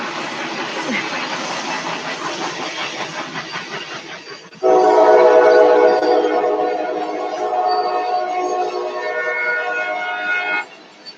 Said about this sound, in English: Uh-oh, train's going by.